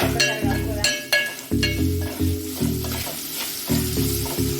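Kabuli chickpeas frying with salt in a pan, a bright close sizzle cut by regular metallic scraping strokes from a spoon stirring them around, with no voices.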